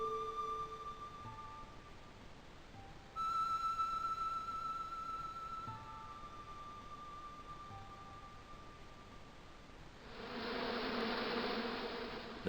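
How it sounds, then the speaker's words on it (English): Hornets swarming inside a bush on an island in the point-and-click adventure Broken Sword II: The Smoking Mirror, a steady insect buzz with tonal game music over it, swelling into a louder, denser hiss near the end. "here was a bush that was buzzing"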